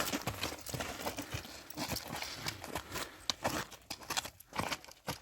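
Hooves of a Percheron stallion clip-clop on hard ground in a quick, uneven run of close, sharp strikes, fairly loud and alone, with a few scuffs between the beats.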